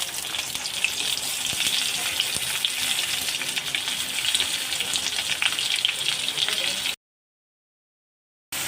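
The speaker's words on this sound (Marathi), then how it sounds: "तेल जे आपलं चांगलं गरम झालेलं आहे त्यामध्ये आपण आता टाकणार आहोत पहिले कांदा" Onion hits hot oil in a pan for an egg curry, giving a loud, close, continuous hiss and sizzle that holds steady for about seven seconds before cutting off abruptly into silence; no talking.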